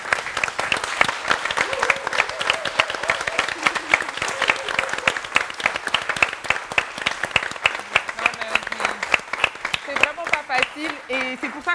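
A standing audience applauds cancer survivors at a breast cancer awareness event, dense continuous clapping filling the room for about twelve seconds, loud and close, with a few voices briefly audible near the end.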